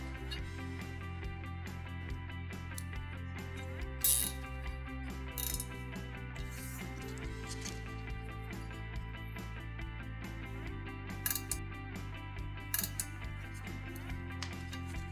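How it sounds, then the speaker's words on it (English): Tie straps zip tight around the backrest hose of an ADC-02 hydraulic chair, giving short ratcheting clicks over a steady tonal hum, close and moderately quiet, with no talking. "Secure the backrest hose with tie straps."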